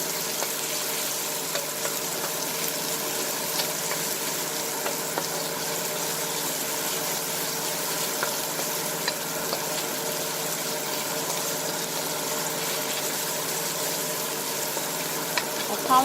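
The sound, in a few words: sauteing food in a pan for Jamaican Ital cooking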